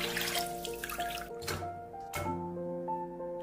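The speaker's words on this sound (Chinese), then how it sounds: "再用清水淘洗至水变清澈" Fish being rinsed and washed in clear water in a kitchen, with steady close splashing and dripping from a tap or sink, sloshing continuously under tonal background music.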